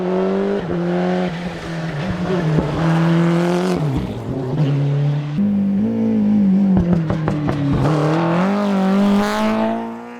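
A Ford Sierra RS Cosworth 4x4 rally car on a tarmac stage in Austria, its engine loud and close, revving hard through the gears with sharp pitch swings, off-throttle crackles and brief tire squeal.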